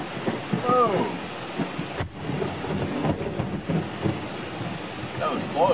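Thunder rumbling over steady heavy rain drumming on a tin roof during a storm, with low rolling booms and constant patter, while a person talks excitedly through it.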